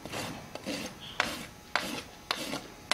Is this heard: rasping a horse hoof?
yes